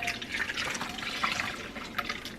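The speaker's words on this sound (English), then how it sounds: "I personally like to strain it once first through just like a plain mesh strainer, just to separate like the big chunks right away." Homemade oat milk pours through a plain mesh strainer, a continuous close-up trickle and splash with small drips, fairly quiet and steady for a couple of seconds.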